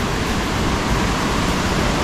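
A river rushes through a narrow channel at the head of a waterfall along the Blue Ridge Parkway, giving a loud, constant, broadband roar of water with no pauses and no voices.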